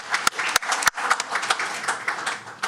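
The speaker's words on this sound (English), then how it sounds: "give him a round of applause" Audience applause at a city council meeting in Daly City: a dense stretch of clapping with several sharp, close hand claps standing out over the steady crowd noise.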